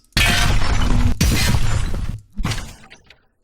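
A layered trailer hit from a sound effects library crashes in with a loud, shattering burst of bright debris over a deep boom, a second heavy impact follows, then a shorter third hit decays into silence.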